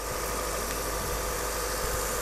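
A Honda Prelude V engine idles steadily after repairs to its engine controller, injection system, ignition distributor and gas controller, a continuous low hum with an even mechanical drone and no talking.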